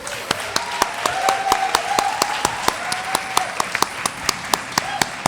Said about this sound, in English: I want to give a final round of applause to our fine esteemed panel